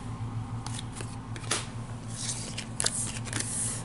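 Playing cards for a Resident Evil 2 board game are discarded on a table, giving soft papery slides and flicks in short bursts over a low steady hum, close and quiet.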